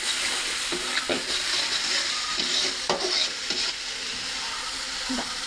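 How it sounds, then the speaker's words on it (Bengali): Spice paste frying in a pan for a cauliflower fish curry, a steady sizzle broken by a handful of scraping spatula strokes at uneven intervals, close and without talk. "ঢাকনাটা উঠিয়ে মশলাটা একটু নাড়াচাড়া করে দিতে হবে।"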